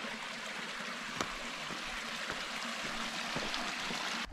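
Stream water flowing steadily near a farm field in Naringre, Devgad, a continuous close trickle and rush with faint clicks, no voices.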